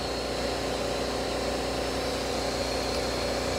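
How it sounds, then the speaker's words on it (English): A Mytee Escape Plus carpet extractor with two LX vac motors at about 100 PSI, set up for couch cleaning, runs with a steady, loud, unbroken motor drone and hum, no voices over it. "Today we're running the Mytee Escape Plus."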